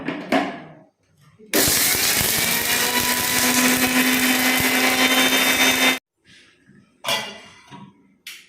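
A kitchen mixie grinder whirs loudly and steadily for about four seconds while grinding spices with water for a homemade kashaya, then cuts off, followed by a few brief rattling bursts.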